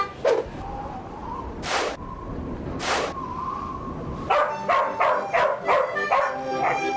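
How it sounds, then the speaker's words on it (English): Frisbee dogs bark in sharp, high yips, a few isolated barks early then a quick rhythmic series, close and loud, amid outdoor crowd noise at a dog performance. "I have a synchronized team of Frisbee dogs."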